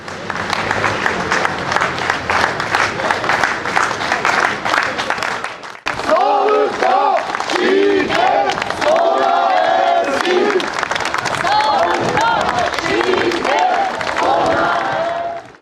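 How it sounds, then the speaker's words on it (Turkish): Health workers in Eskişehir clap together in protest outside the provincial health directorate, with sustained loud applause from a crowd and a few shouts mixed in. "dün yaşanan şiddet olayları alkışlarla protesto edildi"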